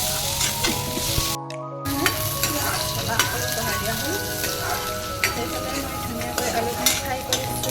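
Potatoes fry in a pan with a constant crackling sizzle, broken by scraping stirs and clinks of a utensil; a short dropout interrupts it early, and the frying runs on steadily.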